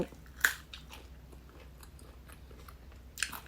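Someone chews crunchy food from an Isan meal of bamboo shoot curry with mushrooms and chicken, with close, moist crunching bites standing out at the start and end over a steady low background hiss.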